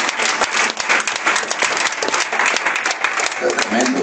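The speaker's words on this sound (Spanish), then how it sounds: "Un aplauso a Jesucristo por esto, hermano." A congregation at a New Jersey spiritual warfare church seminar breaks into sustained, dense applause, loud and close, with a voice speaking over the clapping.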